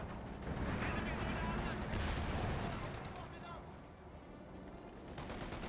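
In the World War II strategy game Company of Heroes 2, machine guns rattle in fast bursts mixed with rumbling battle noise, partly under voices, then thin out and return toward the end.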